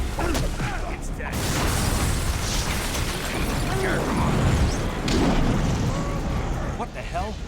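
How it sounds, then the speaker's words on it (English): A loud, sustained roaring explosion in a video game (Watchmen: The End Is Nigh) with rumbling low end, broad noise swelling and fading over several seconds, with faint voices mixed in. "That explosion came from the shower room."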